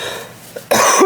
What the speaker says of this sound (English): I am so sorry for coughing.